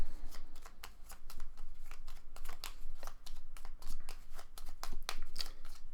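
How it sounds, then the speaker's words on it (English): A card deck from the Final Girl board game being shuffled by hand, a steady run of quick papery riffling snaps repeating close to the microphone with no talking. "We're going to shuffle in Alice's shotgun."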